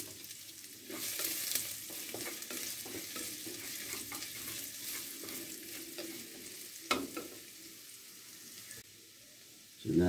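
Sliced ginger fries in leftover oil from frying fish, giving a soft, steady sizzle with scattered crackles and a few stirring scrapes, fairly quiet throughout.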